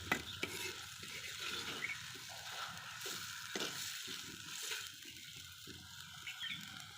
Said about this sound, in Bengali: শুধু মশলাগুলো দিয়েই ভালোভাবে কষিয়ে নিচ্ছি